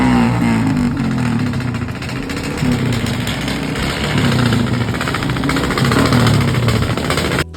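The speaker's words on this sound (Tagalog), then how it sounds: "Yan yung time na nagsisidaanan yung mga motor na maiingay, yung tambutso nila." Motorcycles with loud exhausts passing by on a street, a continuous rough engine rumble that swells and fades as bikes go past, moderately loud and without talk.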